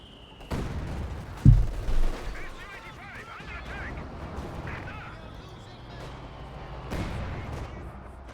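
Gunfire and machine-gun bursts in Company of Heroes 2, with a heavy thump early on, scattered cracks and distant rattling shots, mixed under game noise and a commentator's voice.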